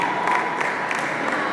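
Audience applause at a school event, a dense, steady wash of many hands clapping that fills the whole moment at an even, moderate loudness.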